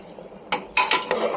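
Fried potatoes and bay leaves are stirred in hot ghee in a pot for biryani, giving a few short scraping, clinking strokes of a utensil against the metal over a soft background sizzle.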